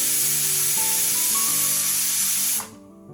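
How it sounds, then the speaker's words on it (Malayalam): A pressure cooker holding chicken kabsa on a medium flame vents steam through its whistle: a loud, continuous hiss with faint tonal whines that cuts off abruptly near the end, leaving quiet room tone. "അപ്പോൾ അതാ നമ്മുടെ കുക്കർ ഇവിടെ വിസിൽ വന്നിട്ടുണ്ട്"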